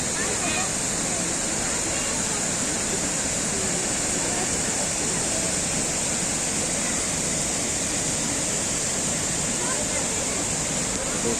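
A steady, roaring rush of falling water from Aladağ Waterfall in Turkey fills the whole clip, loud and unbroken, like standing close to a waterfall.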